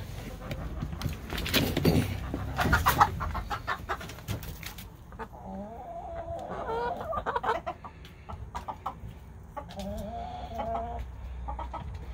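Chickens in a hen house cluck and squawk in short bursts, loud at first with a scuffle, then softer intermittent clucking from nearby birds.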